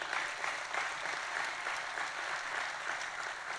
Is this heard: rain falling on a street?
no